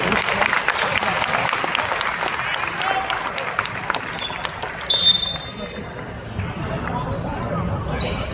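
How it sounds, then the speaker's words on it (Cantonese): Sustained crowd applause fills a basketball venue as two teams, a Hong Kong star side and a Guangdong side, are welcomed at a primary school championship match, with an announcer's voice over the clapping. "再一次熱烈掌聲歡迎兩隊球隊"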